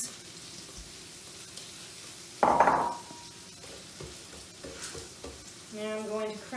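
Onions, peppers and brats hit hot sesame oil in a wok with a sudden loud burst of sizzle, then settle into a quieter crackle with scraping stirs and utensil clinks, and no talk.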